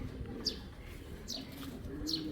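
A pair of old-breed Tamacholi pigeons coo softly with a few faint chirps, quiet and steady against a low background hum.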